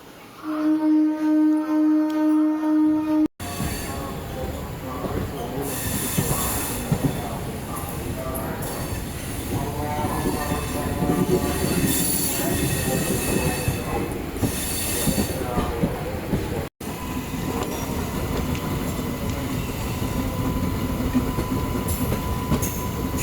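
A MEMU passenger train rolls into a station platform on the Thiruvarur line, wheels squealing loudly and steadily against the rails, with clattering carriages and brief bursts of noise, close by throughout.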